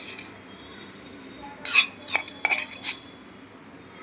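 A metal utensil mixes green chili and garlic paste into white dhokla batter in a bowl, giving a few sharp scraping clinks that come in a short cluster over a quiet background.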